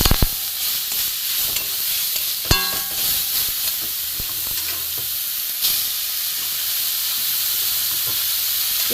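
Grated papaya fries in hot ghee with cashews and raisins over low gas, a loud broad hiss and sizzle that holds steady, with a few clanks of the spoon near the start, all close and unvoiced.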